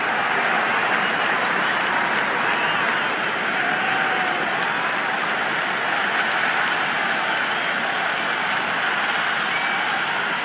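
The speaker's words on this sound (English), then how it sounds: "The crowd is electric right now." Stadium crowd applauding and cheering in the Cricket 26 video game during an India vs South Africa T20 match, a sustained dense roar of clapping that stays loud and even throughout.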